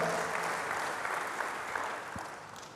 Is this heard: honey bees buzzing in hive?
no